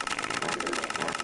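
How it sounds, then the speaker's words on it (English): Car engine running close by, a loud continuous mechanical drone with a fast, rough pulsing rhythm throughout. "You see how that engine sounds?"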